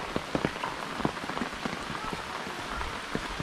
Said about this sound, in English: It's raining, heavy raining, so we need to go back home.